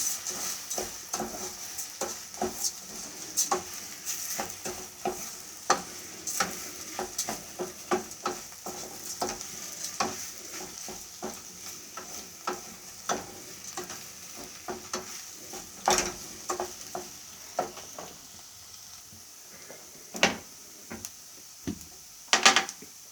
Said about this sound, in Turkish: bir su bardağı arpa şehriyemiz güzelce kavuralım şimdi bunu.